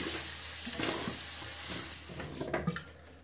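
Rinse water running out of the nose during a saline sinus wash, a close splashing trickle over a sink that thins into a few drips and splats near the end.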